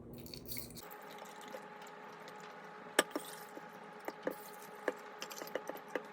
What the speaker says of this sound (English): let's pour in the water